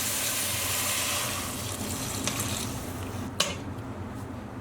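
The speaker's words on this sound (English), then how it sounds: "we'll just top all this up with some cold water" Cold water poured into a soup pot of fried onions and potatoes, a continuous rushing pour over fading sizzle, then a brief clink of a pan near the end.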